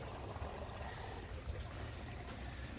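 Storm floodwater welling up out of the ground beside a shed, a steady, soft rushing and gurgling flow that continues evenly throughout without speech.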